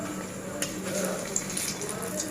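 Chicken pakora frying in hot oil in a kadai gives a steady close sizzle with brief bursts of spitting, a short stretch of noisy bubbling.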